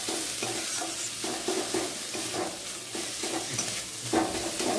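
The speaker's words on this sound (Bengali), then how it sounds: "এই যে শুটকিটা এখন দিয়ে দিচ্ছি, চিংড়ি মাছের শুটকি দিয়ে দিচ্ছি" Dried shrimp frying in a wok with spices, a steady close sizzle broken by repeated scraping stirs in a loose rhythm throughout, with no voices.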